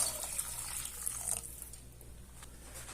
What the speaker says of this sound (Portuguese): Vou jogar aqui água quente.